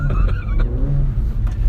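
A Mercedes-AMG A45 2017 all-wheel drive car slides on snow and ice, its engine droning loud and close with a rising, revving tone and faint tire noise.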